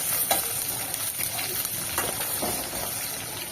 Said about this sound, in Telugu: చూస్తారు కదా మంచిగా ఫ్రై చేసుకుంటున్నాను.